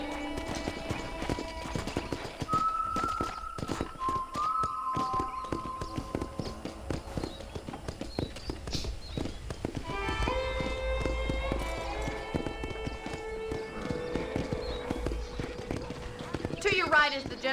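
Horses clip-clop steadily on a ranch tour, a continuous run of hoofbeats with an occasional whinny, under tonal music and voices.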